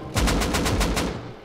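Rapid automatic gunfire in the survival game Rust during a raid, about eight evenly spaced loud shots in a fast burst, close and dominant, with no talk over it.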